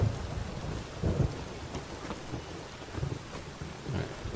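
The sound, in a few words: rain and thunder in The Witcher 3 video game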